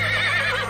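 A horse neighs as a sound effect in a Hindi horror audio drama, with a loud, close, wavering whinny that fills the whole moment.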